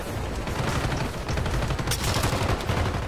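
Sustained gunfire aimed at the player in Call of Duty: Black Ops, a dense, continuous rattle of rapid shots and low booms filling the whole stretch, loud and close with no pauses.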